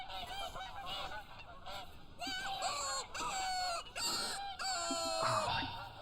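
Geese in TheHunter: Call of the Wild honking from a field, a busy overlapping chorus of nasal, repeated calls from several birds, loud and continuous, with occasional clucking and crowing-like cries mixed in and no talking.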